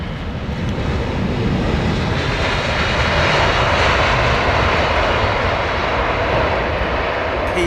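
A jet airliner lands at London Heathrow Airport with a loud, sustained engine roar and rushing wind that swells through the middle and holds steady throughout.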